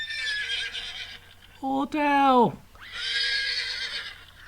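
A person imitates a horse's neigh, a loud wavering whinny that rises and then falls in pitch, set between stretches of close speech.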